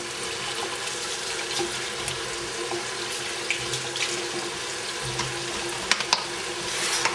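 Strawberries are washed under a running kitchen tap. The water flows in a steady, continuous splash throughout, with a few small knocks and splatters near the end.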